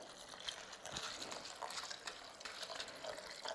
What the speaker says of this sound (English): So I will put in 4 cups of water,